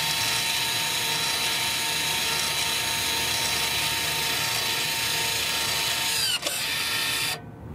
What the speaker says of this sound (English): Wait until you hear the motor working in the back.